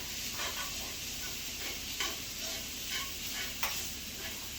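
Keto pizza crust ingredients stirred together in a slightly too-small bowl, a soft continuous scraping and swishing with a few brief louder scrapes, steady and close, no voices.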